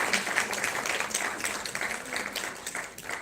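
An audience at a health conclave claps for a speaker being welcomed to the stage, a moderately distant, busy patter of many hands lasting about three seconds.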